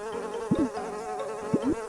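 Flies buzzing in the video game Piggy, a steady close drone with a couple of brief louder swoops as they pass, alone without talk.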